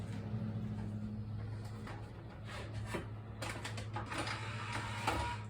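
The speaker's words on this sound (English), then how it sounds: "let me go emboss this" A paper embossing machine runs a sheet through with a steady mechanical grinding and rubbing, growing louder and brighter in its second half, with no talk.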